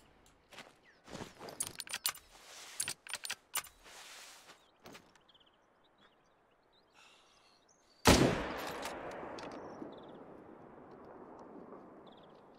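A rifle shot at a moose in The Hunter: Call of the Wild fires with a single loud, sharp crack that rings out and fades slowly, after earlier soft footsteps and rustling moving through the terrain.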